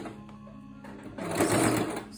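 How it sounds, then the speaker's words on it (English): A sewing machine stitches a dart along a marked line in fabric, starting with a light mechanical whir and then running into a louder, faster burst of rapid stitching up close. "Hold my thread and sew."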